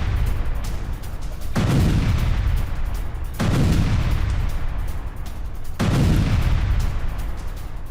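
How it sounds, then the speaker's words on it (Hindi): Three heavy, booming blasts from airstrikes on Hamas positions in Khan Younis, each a loud low rumble that swells and lingers for a couple of seconds, spaced evenly with continuous noise in between. "खान यूनिस में हमास के ठिकानों पर हमला, हमास के स्ट्रैटेजिक पोजीशंस पर एक साथ तबाही"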